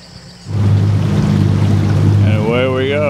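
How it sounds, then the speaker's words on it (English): A motorboat engine starts and holds a loud, steady low drone on a lake in northeastern Argentina, and a voice with a rising and falling pitch sounds over it near the end. "Victor getting the boat ready."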